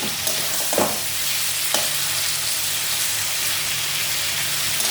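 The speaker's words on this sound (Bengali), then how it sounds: "মশলা দিয়ে কষানো হয়ে গেছে" Spices frying and being stirred with pumpkin for a Bengali kumror dalna, a steady sizzle in the pan with a couple of scraping stirs of the spatula, close and continuous, with no voices.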